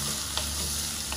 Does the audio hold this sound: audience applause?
no